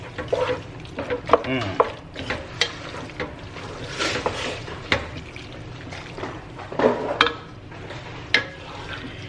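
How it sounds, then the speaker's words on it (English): Sausage and bowtie pasta stirred in a single pot, with scraping spoon strokes and wet, bubbling liquid sounds coming in irregular bursts, close by and moderately quiet. "And then just stir it away."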